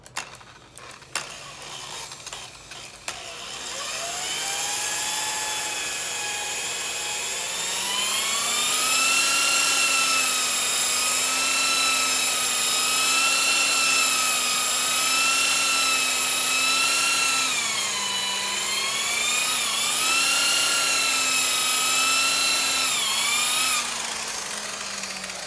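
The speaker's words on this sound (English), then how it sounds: "So we're gonna run our buffer just a little bit on the edge." An electric buffer polishes the edge of a speaker enclosure finished in 2K clear over Krylon paint. After a few faint knocks it spins up to a loud, steady high whine that holds with small pitch dips and then cuts off near the end.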